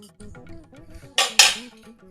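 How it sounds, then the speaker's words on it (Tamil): A metal spoon scrapes and clinks against a pan while lemon rice is stirred, with two sharp, close scraping strokes standing out over softer background sounds. "நல்லா மிக்ஸ் பண்ணிட்டோம்னா நம்மளுடைய எலுமிச்சம்பழ சாதம் ரெடி."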